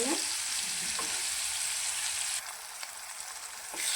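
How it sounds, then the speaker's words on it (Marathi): Gravy with garlic fries in a hot pan for a vegetable dish of mixed peas and chickpeas, a loud steady sizzle with a few stirring scrapes, briefly dipping partway through. "ग्रेव्ही टाकून घेतलेली आहे, याला पण चांगली फ्राय करून घेऊया"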